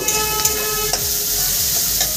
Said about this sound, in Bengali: পেঁয়াজ আর টমেটোটা আমি সুন্দর করে ভেজে নেব